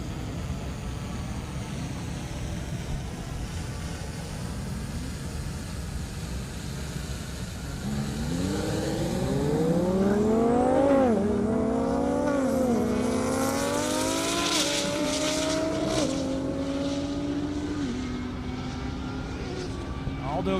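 Lamborghini Huracan and a 1998 Chevy S10 drag racing on an airport runway, engines rising from a distant rumble into loud accelerating whines with stepped gear shifts, then fading away over steady background noise.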